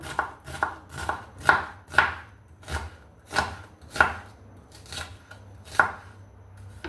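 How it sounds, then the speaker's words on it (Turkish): A knife chops onions on a cutting board in slow, regular strokes, about a dozen sharp thunks spaced roughly half a second apart. "Yarım kilo kabağa 2 tane kuru soğan doğrayacağım."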